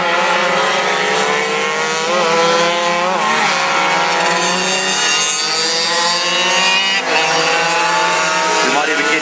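A pack of 85cc junior motard motorcycles races past, engines screaming continuously at high revs and shifting pitch, loud and dense, with a commentator talking over them.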